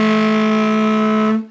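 A short saxophone growl, one close, gritty sustained note lasting just over a second, loud and rasping before it cuts off.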